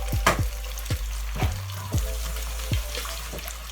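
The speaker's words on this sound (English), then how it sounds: "now I'm gonna do my fried egg right there in that same pan" A fried egg sizzles in oil in a pan, the frying hiss steady and close, with soft pops and clinks of a utensil recurring every half second or so.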